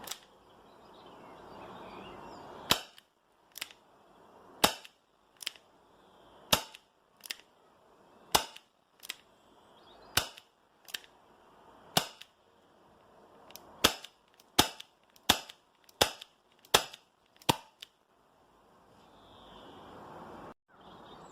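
A Tanaka Works Colt Python 2.5 inch airsoft revolver fires 0.25 gram BBs on green gas, about twenty sharp, close pops spaced a second or so apart, a quick cluster near the end, with quiet pauses between.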